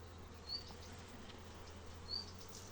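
Faint, steady buzzing of honeybees at a hive being opened to add a super, humming under a quiet background, with a couple of brief higher buzzes standing out.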